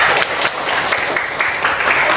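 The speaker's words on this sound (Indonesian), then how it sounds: "kita kasih tepuk tangan untuk Kesa atas pendapatnya" A classroom group claps for a student after her answer, a loud continuous burst of hand clapping lasting a couple of seconds.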